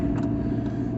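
A pickup truck's engine running while driving, a steady low rumble with a constant mid-pitched drone and no talking.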